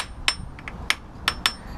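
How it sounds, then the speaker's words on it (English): A hammer taps bolts on a KTM Freeride 250R motorcycle: five or six light, ringing metallic taps at uneven intervals, close up and alone, each tap with a slightly different tone. "when you're tapping with the hammer"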